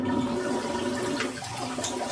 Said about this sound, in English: we're gonna get some warm water here